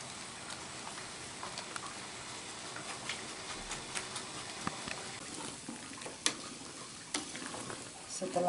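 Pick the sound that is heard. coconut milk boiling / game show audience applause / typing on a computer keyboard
coconut milk boiling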